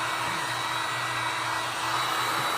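Heat tool blowing hot air onto a DIY cross craft, a loud, steady, unbroken whooshing hum running throughout with no voices.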